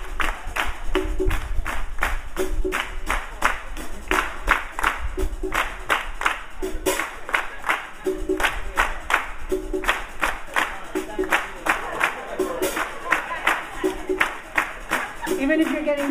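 A crowd at a live show claps along in a steady rhythm, loud and close, with music and singing carrying over the beat throughout.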